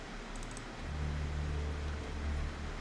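A deep FM8 drone bass preset called Baby Got Beef hums in an Ableton Live session, a low sustained tone that swells louder after the first second while automated panning sweeps it from side to side.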